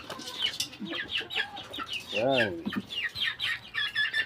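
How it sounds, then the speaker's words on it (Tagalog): A native chicken clucking in a backyard farm, a run of quick close clucks and squawks with a louder drawn-out call midway, while someone speaks briefly over it. "Yan, may isang native chicken pa kami dito."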